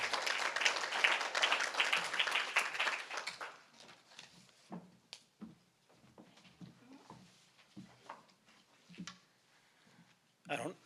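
A luncheon audience applauds for about three seconds with dense clapping that fades out, followed by quieter room noise, scattered knocks and someone speaking.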